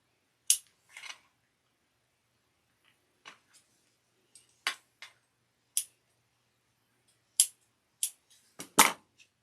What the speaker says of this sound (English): And I'm trimming the threads.